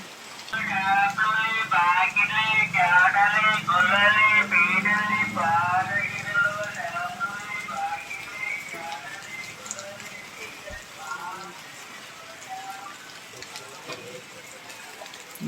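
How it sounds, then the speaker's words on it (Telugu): Heavy rain pours down steadily while a voice talks over it for the first half, then the downpour continues alone as a constant wash of patter. "మళ్ళీ ఇప్పుడు ఎక్కువ అయిపోయింది వర్షం కూడా"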